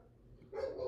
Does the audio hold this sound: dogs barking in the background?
yes